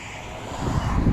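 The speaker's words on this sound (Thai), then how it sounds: "ทั้งลมทั้งเสียงรถ" Steady wind rushes and buffets the microphone, mixed with passing traffic noise, with a low rumble swelling toward the end.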